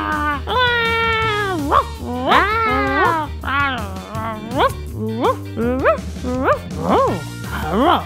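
A toy puppy yaps and whimpers in a run of high, rising and falling barks and squeals. The sounds are close and loud and come in quick, uneven bursts.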